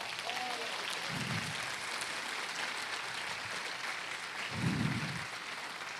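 Church congregation applauding during a sermon at a Baptist church, a steady wash of clapping across the whole stretch with two brief louder swells.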